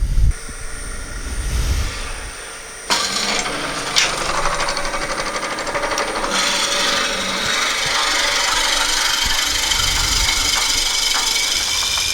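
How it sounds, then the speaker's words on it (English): A power drill with a 3/8 inch bit grinds steadily through wood, a continuous loud whirring rasp that briefly dips and then runs on without a break. "Now I will get a longer 3/8 inch drill bit into my chuck"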